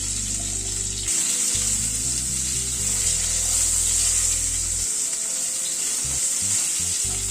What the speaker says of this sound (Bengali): আলুটাকে আগে ভেজে তুলে নিচ্ছি